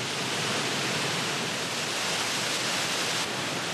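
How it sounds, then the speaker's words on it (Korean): A broad waterfall pours over limestone terraces in Turkey, and its steady, full roar of rushing water holds loud and unbroken throughout. "비단물이 확 떨어지는 그 모습이 아주 대장관을 지금 이루고 있습니다"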